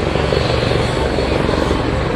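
A Westland Lynx AH7 military helicopter flies a display at Abingdon, its engine and rotor making a loud, steady, close roar that holds unbroken throughout.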